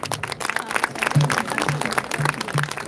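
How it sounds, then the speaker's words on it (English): Audience applauding students at a school annual day celebration, a steady wash of many hands clapping loudly and continuously, with a faint low hum underneath. "Give them a big round of applause"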